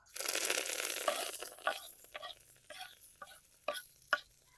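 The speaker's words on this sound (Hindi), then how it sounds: "मेथी को 1 से 2 मिनट तक फ्राई कर लेंगे" Fenugreek seeds fry in hot oil in a kadai, starting with a strong hiss that fades into scattered crackles and pops. The sound is close, fairly quiet, and has no talking.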